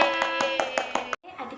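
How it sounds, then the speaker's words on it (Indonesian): Children in a primary classroom clap together in a quick, regular rhythm of about six claps over musical tones, then the sound cuts off abruptly and quieter clapping follows. "tepuk tangan untuk semuanya"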